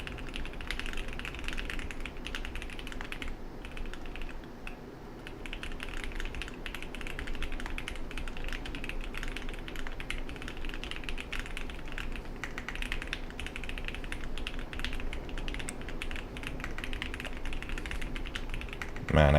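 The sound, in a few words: typing on a computer keyboard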